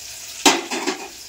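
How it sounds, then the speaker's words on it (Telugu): Chopped onions drop into a hot pan to fry for mutton, giving one sharp sizzling burst followed by a couple of softer stirring scrapes. "ఇలా ఉల్లిపాయలు బాగా బ్రౌన్ కలర్ లెక్క వచ్చే వరకు వేయించుకోవాలి"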